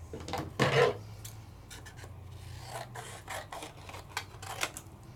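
Papercraft cards being cut on a paper trimmer, with a few close, dry rasping slides of the blade through card and light scrapes and taps in between, fairly quiet.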